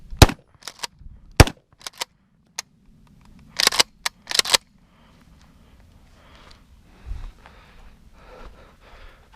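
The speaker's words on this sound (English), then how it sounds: "Let's do some more hip shooting here from way out here." A Winchester SXP Defender 12-gauge pump shotgun fires sharp, loud blasts outdoors, several spaced shots early then a tight pair, followed by quieter handling and rustling.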